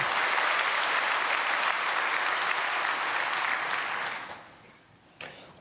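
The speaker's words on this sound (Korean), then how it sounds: "박수해 주시길 바랍니다." A church congregation applauds at an early-morning prayer service, a steady dense wash of clapping that fades out toward the end, followed by a single sharp knock.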